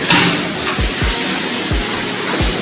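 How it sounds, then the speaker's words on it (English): Water drips through an electrical socket in a house, falling in a slow, irregular series of soft low plops, about five over a few seconds, against a steady hiss of running water. "it's dripping through the socket"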